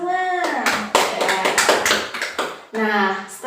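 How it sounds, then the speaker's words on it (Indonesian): A classroom group claps hands during a microteaching science lesson for elementary pupils, a burst of uneven taps and claps between spoken phrases, with a voice talking before and after. "Tepuk tangan untuk kita semua."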